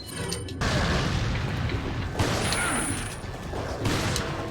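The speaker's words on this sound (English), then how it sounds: "These grenades aren't very good damage compared to..." Grenade explosion in Resident Evil 4: a heavy boom followed by sustained rumbling noise and mechanical clatter, with further bursts layered over game sounds.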